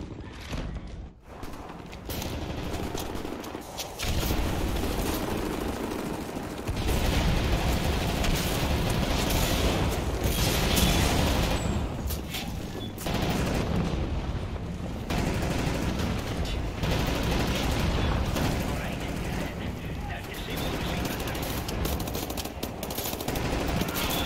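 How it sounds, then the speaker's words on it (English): Sustained machine gun cover fire in the shooter Wolfenstein: The New Order, loud continuous rattling bursts with booming impacts and combat noise running for about twenty seconds, no voices. "Right, lads, you ready to lay down suppressor fire?"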